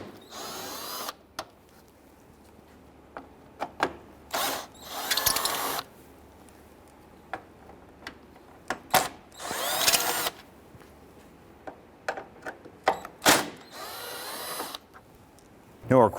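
A power tool loosening T30 Torx fasteners on the upper cross member of a 1999-2004 Jeep Grand Cherokee, heard as several short, close whirring bursts separated by quiet gaps and small clicks.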